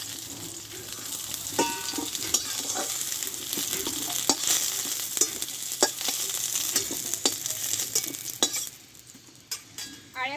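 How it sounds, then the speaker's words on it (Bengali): Drumstick (sojne) stalks frying in hot oil in a pan for a Bengali recipe, a steady close sizzle with frequent clinks and scrapes of a spatula stirring against the metal pan. "দেখো ডাটাগুলো কিন্তু ভালোভাবে একটু কষিয়ে নিয়েছি, একটু লাল লাল করে।"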